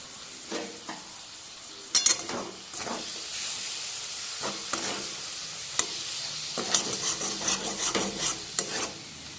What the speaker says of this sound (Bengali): মাছটার সাথে মশলার সাথে ভালো করে আমি কষিয়ে নিই।